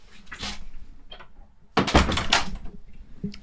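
A door opens and shuts indoors, with a few broadband thuds and clatters, the loudest bump landing midway through the short stretch, then quieter handling sounds.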